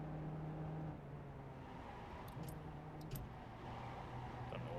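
Jetta TDI diesel engine on the Tsukuba Circuit in iRacing, a steady droning engine note that steps down in pitch around the one-second mark and again near three seconds, with faint high whirs above.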